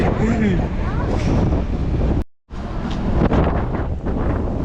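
Gusty, cold wind buffets the microphone with a rough, roaring rush in a rainforest in Canada, briefly cutting out midway, while a voice speaks faintly underneath.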